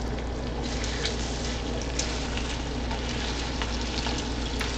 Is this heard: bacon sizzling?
yes